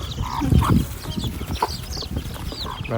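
Chickens cluck and squawk close by at a morning feeding on a farm, several birds calling in short overlapping bursts over a little background noise, with no talking.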